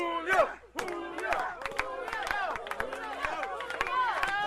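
Wrestling crowd at a tag team match, loud rhythmic chanting and cheering, sustained and close, with some shouting voices over the noise.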